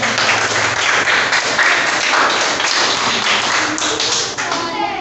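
A seventh-grade class claps together in a classroom, a dense steady patter of hands lasting the whole stretch, with a little talk mixed in.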